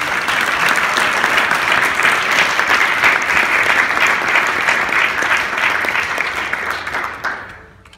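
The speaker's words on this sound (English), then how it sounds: "should we just give a big round of applause for all 17?" Sustained applause from an audience at a student BIM design competition event, dense steady clapping filling the room for several seconds before fading out at the end.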